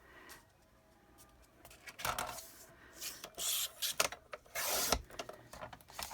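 A scoring tool drawn along paper at the half-inch mark, giving close, soft scraping strokes that come in a few short bursts with brief pauses between them, quiet and alone with no talk.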